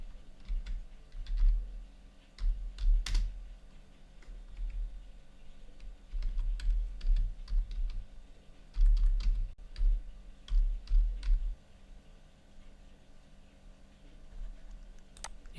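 Soft clicking keystrokes on a computer keyboard as a username is typed, coming in irregular bursts with short pauses, close and fairly quiet, no talk.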